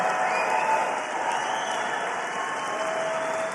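Sustained applause from a large rally crowd, a steady dense wash of clapping held at an even level throughout, heard from some distance.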